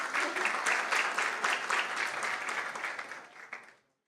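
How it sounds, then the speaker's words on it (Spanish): An audience at a World Law Congress technology and cybersecurity panel applauds a panelist, a burst of steady clapping that gradually thins and stops cleanly after about three and a half seconds. "un aplauso para Tamta"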